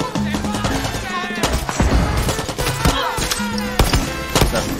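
Rapid gunfire bursts while driving in Far Cry 6, loud crackling volleys over engine noise, with someone talking excitedly through it.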